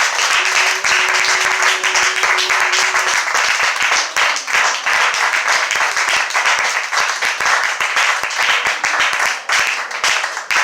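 A church congregation at a French-language service claps together in sustained, loud applause that fills the room close by without letup, with some faint voices mixed in.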